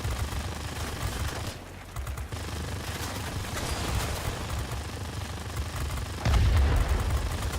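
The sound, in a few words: XP-72 machine guns firing in World of Warplanes video game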